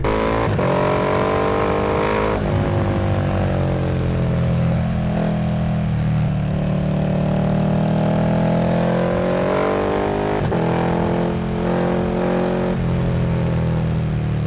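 A KTM 1290 motorcycle engine revs and accelerates repeatedly, loud and close, its pitch climbing and dropping in surges over a steady growl.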